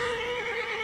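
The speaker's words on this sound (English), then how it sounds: "There should be more plagued horses up here" A plagued horse in the Pathfinder: Wrath of the Righteous video game lets out a steady, loud neigh that holds one pitch for just under a second, with no talk over it.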